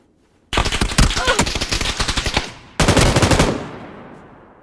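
Rapid automatic gunfire from a video game, loud and close, comes in two long bursts of many shots separated by a brief pause.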